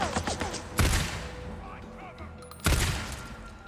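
Two loud, close sniper rifle shots in the video game Days Gone, spaced about two seconds apart, each with a sharp crack and a rolling tail.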